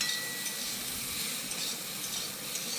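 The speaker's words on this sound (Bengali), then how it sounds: "এই যে এবার কপিগুলো আমি তুলে নেব, দিয়ে আলুগুলো ভেজে নেব" Potatoes frying in oil, a continuous bright sizzling hiss with a faint stirring texture, steady and fairly quiet throughout.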